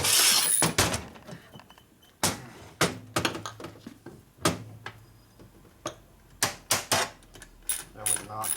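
Motor mount bolts being tightened on a 1977 Harley-Davidson Sportster XL 1000cc Ironhead engine, heard as a string of sharp metallic ratchet clicks and clunks in irregular bursts, close and fairly loud, with no talking.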